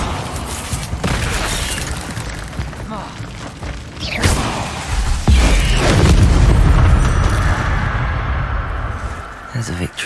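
Spell blasts in the Hogwarts Legacy video game, including Incendio fire spells, set off a series of deep booms and thuds mixed with sharp whooshes and crackling game effects. The biggest rumbling blast swells in the middle of the clip.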